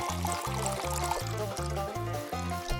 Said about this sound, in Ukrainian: наповни басейн водою